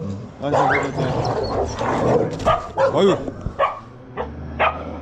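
Wild dogs fight near a tent in a Nepal forest at night, barking, yipping and snarling in a noisy scuffle, several voices overlapping in bursts, with whimpering and fainter yelps as it tapers off.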